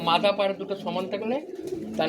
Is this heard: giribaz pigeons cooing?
yes